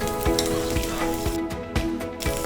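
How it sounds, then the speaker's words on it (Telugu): Curry leaves dropped into hot tempering oil for semiya daddojanam, a vermicelli curd rice, crackle and sizzle loudly and steadily, with a few sharper popping bursts over the dense frying hiss and no talk. "తాలింపు కలిందండి, కరివేపాకు వేసుకుందాం"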